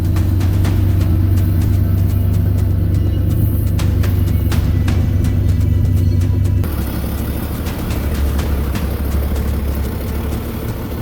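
A vehicle hauling a 1975 Chevy Vega on boards drives around outside a shop, its engine a steady low rumble with scattered clanks and knocks, loud and close, the tone shifting partway through.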